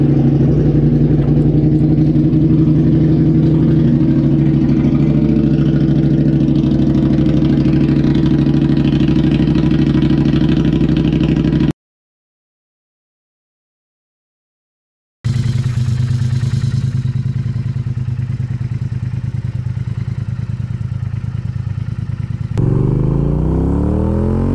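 A Triumph Thruxton R motorcycle with an aftermarket exhaust idles with a loud, steady low rumble, cuts out briefly, then resumes and rises into a rev near the end, with no talking.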